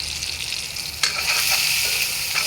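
Tomato and turmeric frying in a pan give a steady close sizzle, with a sharp scrape of stirring about a second in and a few softer stirring strokes after it. No one speaks.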